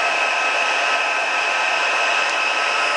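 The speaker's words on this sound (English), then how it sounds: "Take your heat tool" A heat tool blows steadily and loudly to dry watercolour paint, a continuous close whooshing roar that holds even throughout with no talking.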